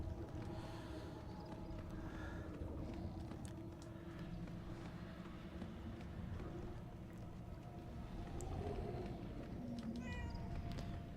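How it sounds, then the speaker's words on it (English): A cat meows a few times inside the video game Murdered: Soul Suspect, heard over a steady game soundtrack and ambient bed that runs throughout. "So Umbra doesn't really meow like that"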